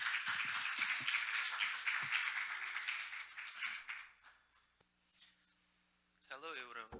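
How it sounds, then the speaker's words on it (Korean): Audience applause for an incoming speaker at an international traditional medicine symposium, a dense broadband patter for about four seconds that thins and fades, followed by a brief tone and a voice speaking at the end. "여러분 큰 박수 부탁드립니다."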